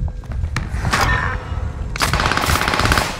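Rapid bursts of automatic gunfire and single shots crackle through a Warzone video game match, loud and close, with thuds and movement between volleys and no talking.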